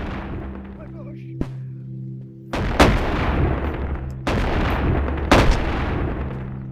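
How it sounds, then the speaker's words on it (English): Shotgun blasts in the video game Animal Company: three loud, sharp booms in quick succession after a quieter stretch, each followed by a short decaying rumble. "Shotgun."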